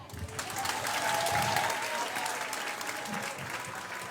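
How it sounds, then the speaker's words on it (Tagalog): A crowd at a Philippine political proclamation rally for senatorial candidates applauds steadily and fairly loudly for several seconds, the clapping dense and continuous with faint voices beneath. "Palakpakan nyo naman ang slate ng PDP laban senatorials."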